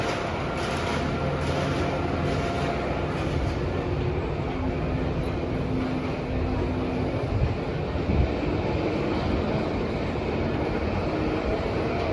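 A steady roar of a roller coaster train rumbling along its track at Busch Gardens Williamsburg, constant and loud throughout, with faint voices buried underneath.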